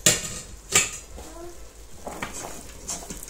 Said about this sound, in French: 5 minutes, je rajoute mes tomates et une partie des oignons